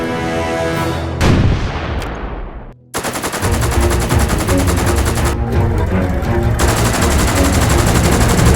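Rapid machine-gun bursts tear through a Lego war animation, loud and close, with a short pause after the opening burst before long, sustained streams of automatic fire.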